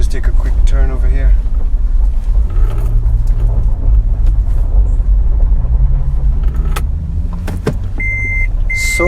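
A 4-liter V6 off-road vehicle rumbles over a rocky road, with a steady low engine drone and bumps from inside the cabin while people talk over it.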